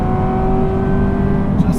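A Ferrari F355 GTS with a manual gearbox holds high RPM, a loud sustained engine wail with steady tonal harmonics from inside the car, plus a brief knock near the end.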